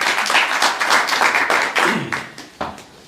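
An audience at the Pakistan High Commission in London claps to welcome a poet, with close, fairly loud clapping that thins into a few scattered claps before fading.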